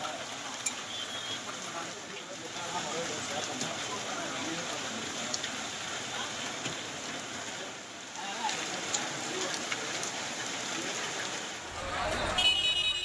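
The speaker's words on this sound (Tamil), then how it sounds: "சிவகங்கை மற்றும் அதன் சுற்றுவட்டார பகுதிகளில் விட்டுவிட்டு மழை பெய்து வரும் நிலையில் பிற்பகல் நேரத்தில் பலத்த மழை பெய்தது" Heavy afternoon rain pours down in Sivaganga, a steady, dense hiss of drops on surfaces that holds at an even level throughout, with a brief louder swell at the very end.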